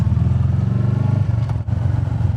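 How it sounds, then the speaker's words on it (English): Royal Enfield Meteor 350 motorcycle fitted with a DNA air filter, engine running close by with a loud, pulsing single-cylinder thump and prominent intake breathing, a brief dip in the revs near the end. "You hear much more of the intake noise."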